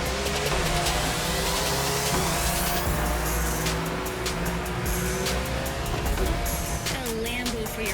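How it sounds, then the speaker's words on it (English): Street race cars roar through a sprint race in The Crew Motorfest, with loud engines revving and shifting, tires squealing in drifts, and cars passing close by throughout. "it is now time to take on some street racers with my new drift skills"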